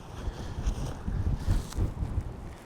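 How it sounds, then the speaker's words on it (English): Wind gusts outdoors during wild camping in Northumberland, UK, a steady loud buffeting rumble against the microphone with no speech. "Still a little bit of wind there"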